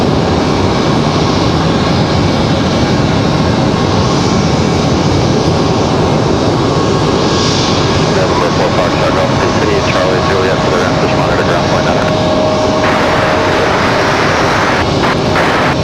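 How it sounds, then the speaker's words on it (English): A JetBlue airliner taxiing toward its gate at Raleigh-Durham International makes a continuous loud engine rumble and hiss, with a thin steady whine appearing partway through and a faint tonal layer later. "This JetBlue gets ready to enter their gate."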